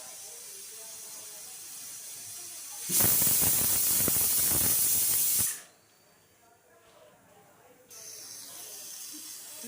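A pressure cooker lid vents steam while sambar ingredients boil on a kitchen stove, giving one loud, steady whistling hiss of about two and a half seconds that cuts off sharply, followed by a low background hum.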